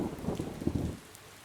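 Torrential rain from a cyclone lashing eastern Madagascar makes a brief, dense rushing roar that drops away abruptly after about a second.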